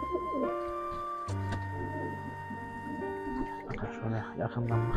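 Tumbler pigeons coo inside a coop, soft low calls repeating close by beneath steady chatter from people.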